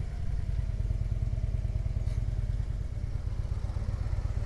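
A Harley-Davidson Road motorcycle rides along mountain roads near Bourg-Saint-Maurice, its engine giving a continuous low rhythmic rumble that stays loud and even throughout, with light wind and road noise.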